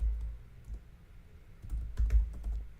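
Typing on a computer keyboard during web design work, a short run of soft, quiet key clicks in irregular bursts, with no talking.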